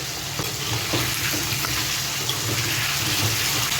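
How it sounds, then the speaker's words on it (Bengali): Potatoes seasoned with turmeric powder fry in an oiled pan, a dense, continuous close sizzle with faint stirring beneath it, no speech. "এবার আলুটা ভালো করে ফ্রাই করে নিতে হবে"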